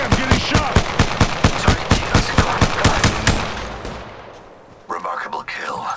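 Rapid bursts of automatic gunfire from the Apex Legends battle royale game, about fifteen sharp regular shots over four seconds, loud and close, then fading, with brief in-game voice chatter after.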